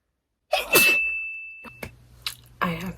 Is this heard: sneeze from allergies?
yes